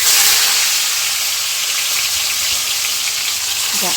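Bele fish sizzling in hot oil in a wok, a steady, loud frying hiss that fills the whole stretch with no talk over it.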